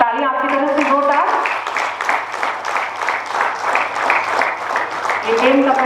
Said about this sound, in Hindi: तालियां आपकी तरफ से जोरदार।